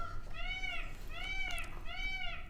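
A cat meows three times in a row, clear plaintive calls at moderate distance over light background noise.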